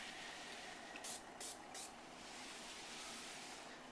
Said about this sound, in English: all we're going to do is spritz it on